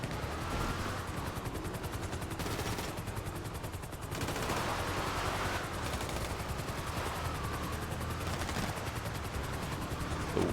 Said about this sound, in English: They're going to pummel me with bullets.